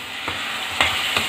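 Tomato puree hits a hot frying pan for restaurant-style paneer matar masala, giving a steady loud sizzle with three quick stirring scrapes.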